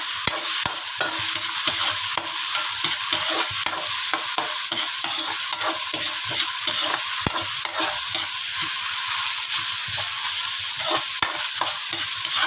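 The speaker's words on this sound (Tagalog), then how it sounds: "Ayan, halo-haloin lang natin guys." Tomatoes being stirred in a cooking pan along with ginger, a dense run of close, rapid scraping and clacking strokes over a constant frying sizzle, with no voice.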